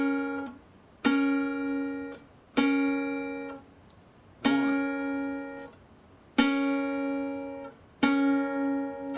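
Double-stop chords on acoustic guitar in a Delta blues lesson, thumb and index finger pinching the strings together, struck six times at a steady, deliberate pace, each ringing briefly before the next, close and clear with no talk.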